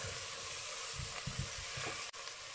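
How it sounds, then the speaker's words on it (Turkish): Frozen meat dropped into a pot of fried tomato paste and butter gives a steady, hissing sizzle with a few soft bubbling pops, close by and alone. "Şimdi buzlu buzlu etimi atıyorum."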